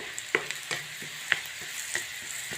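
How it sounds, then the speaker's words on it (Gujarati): Onions sautéing in a pan for paneer korma, with a soft steady frying hiss and a few sharp clinks of a spoon scraping the pan at irregular intervals, close and moderately quiet. "ડુંગળી સરસ શેકી લેવાની છે"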